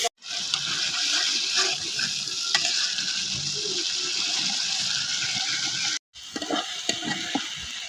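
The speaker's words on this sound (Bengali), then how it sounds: "মশলা কষানো হয়ে গেছে" A paste of onion, chili, salt, turmeric and coriander powder fries with a splash of water in a pan, giving a loud, steady sizzle and bubbling that cuts out briefly and then resumes with stirring clatter.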